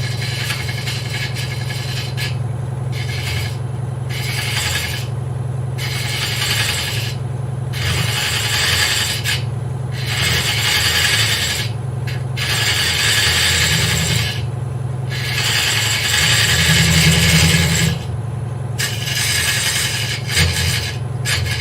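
Wood being hollowed on a lathe with a hook tip tool to undercut the inside of a vase, a steady motor hum beneath rhythmic bursts of scraping and rasping cutting noise that rise and fall about every second, close and loud.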